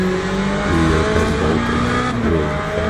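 Race cars in Le Mans Ultimate, a loud, constant engine drone with shifting pitch as the cars accelerate and pass, several engines overlapping near the listener.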